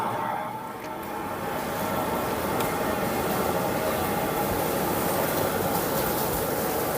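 A steady, loud rush of churning water and air from jacuzzi jets in a pool villa's warm pool runs without pause, a dense continuous roar with no breaks.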